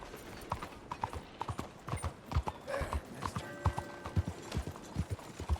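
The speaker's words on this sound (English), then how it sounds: "I guess we should take our horse there." Steady clip-clop of horse hooves trotting at an even rhythm in Red Dead Redemption 2, close and clear, with faint game ambience behind.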